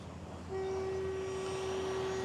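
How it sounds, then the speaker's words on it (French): A vehicle horn sounds on a street in Koh Samui, Thailand, one steady loud blast held for nearly two seconds over low traffic rumble. "Ah, ça klaxonne."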